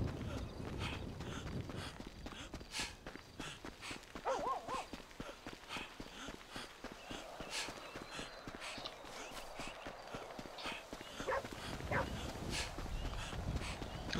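A dog in Grand Theft Auto 5 gameplay, heard among steady clopping footsteps and game ambience, with occasional whimpers and barks over a continuous busy background.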